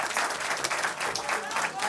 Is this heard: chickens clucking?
no